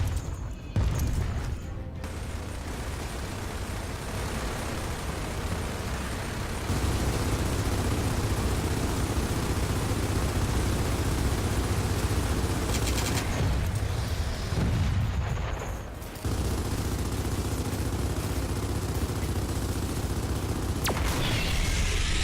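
Video game weapon fire aimed at an exposed core, a dense, loud barrage of booming shots and explosions sustained for long stretches, with a few brief pauses between bursts.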